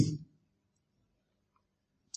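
A computer mouse clicks once on an OK button in Windows, a single faint, brief tick near the end after a short burst of sound at the start.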